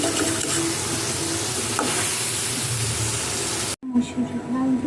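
Spiced food frying in a pan is stirred and turned, a steady close sizzle with scraping strokes, briefly cut off near the end before resuming; someone speaks over it.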